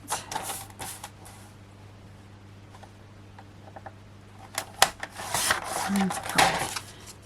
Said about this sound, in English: then I'm going to bring in my trimmer